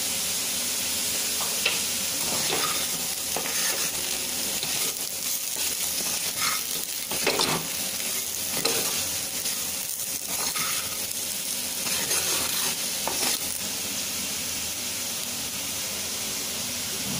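Potatoes crisping in a pan for a Tamil-style potato fry, with curry leaves tossed in near the end, give a steady close sizzle and crackle broken by scattered stirring clinks and scrapes, and no voices.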